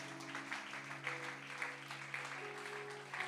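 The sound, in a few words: congregation applauding the Lord in church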